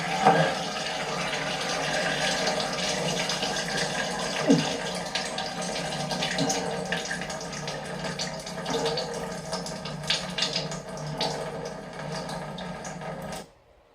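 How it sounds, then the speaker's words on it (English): Water from a running tap gushes up through the tub drain of a manufactured home with faulty plumbing, a steady close rushing flow that lasts the whole stretch, swells briefly midway, then cuts off abruptly at the end. "if you turn on the water here, all that water from there will come up through the drain and into the tub"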